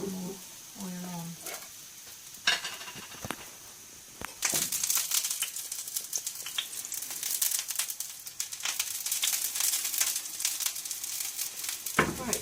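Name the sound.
bananas sizzling while frying in oil in pan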